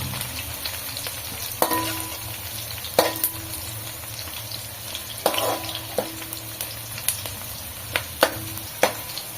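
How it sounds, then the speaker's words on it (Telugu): Onions fry in a pan until brown, a steady close sizzle running throughout, broken by repeated sharp scrapes and clinks of a stirring spoon every second or two, with no talking. "ఆనియన్స్ కొంచెం బ్రౌన్ అయిన దాకా ఫ్రై చేసుకోవాలి మంచిగా."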